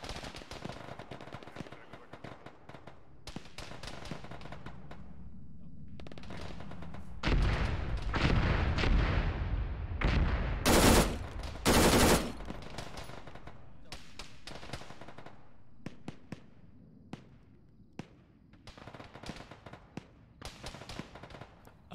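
Rapid bursts of automatic gunfire and single shots in a military shooter game, some close and loud, others distant, with a heavy sustained stretch of fire midway; voices talk over parts of it.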